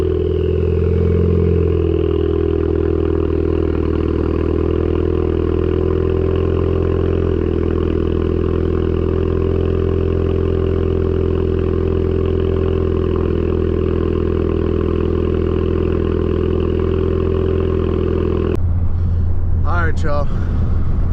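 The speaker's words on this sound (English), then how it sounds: "But first, I'm going to give you all a cold start." Ford Focus ST engine on a cold start, a steady loud idle rumble with strong low harmonics holding for most of the span, then clattering handling noise and a voice near the end.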